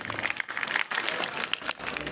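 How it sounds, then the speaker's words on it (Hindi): Clapping at a Republic Day school function in a Mewat village, applauding a deputy sarpanch's donation of a water tank. Moderate, somewhat uneven applause with scattered sharp claps, briefly dipping before picking up again. "तालियां बजाएं"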